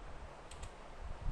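Computer keyboard keys tapped in a short burst while a file name is typed, a few soft clicks close by against a steady room hiss.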